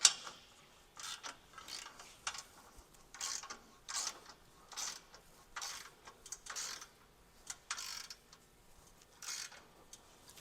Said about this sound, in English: So I'm going to continue tightening these 1/2-inch bolts.